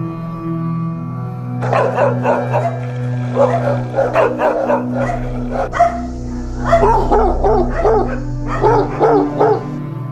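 Several dogs at a shelter for abandoned animals bark in repeated loud, close bursts, with yips mixed in over a low steady hum.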